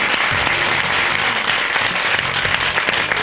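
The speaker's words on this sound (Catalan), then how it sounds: "Fora aplaudiment." Studio audience applause on a Catalan TV talk show, a steady dense wash of clapping that stays loud and even throughout, with no talking over it.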